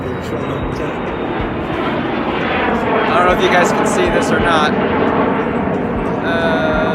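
A Challenger business jet roars steadily overhead, building in loudness midway, while someone talks over it.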